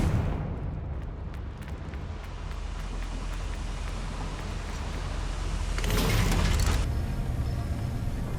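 A Confringo fire spell explodes in Hogwarts Legacy as a loud, rumbling blast with a sustained roar, swelling into a brighter burst near the end.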